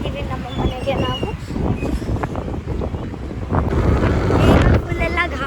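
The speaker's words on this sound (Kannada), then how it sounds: "ಫುಲ್ಲೆಲ್ಲ ಗಾಳಿ ಮಳೆ ಎಲ್ಲ ಬರ್ತಾ ಇದೆ, ಧೂಳೆಲ್ಲ." Strong gusty wind with rain and blowing dust outdoors on the way home from a vegetable market, roaring and buffeting close to the microphone throughout, swelling louder toward the end.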